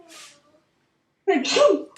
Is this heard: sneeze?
yes